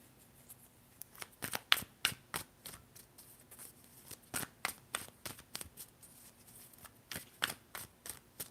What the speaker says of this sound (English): So I'll move these cards up some, up, and I will get some more tarot cards